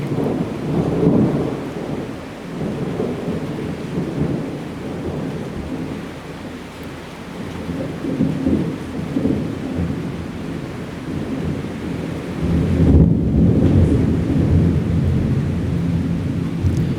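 Heavy rain pours steadily while low thunder rolls and rumbles throughout, swelling louder near the end, over a farmyard in Northern Ireland.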